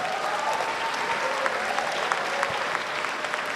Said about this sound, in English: Please give them warm applause.